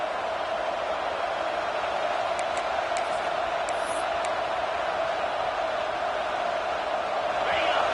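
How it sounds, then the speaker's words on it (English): A stadium crowd at a college football game roars in a steady, dense wash of cheering, building slightly toward the end, with a commentator's voice faintly over it. "this crowd coming to life here, trying to help the defense get a stop"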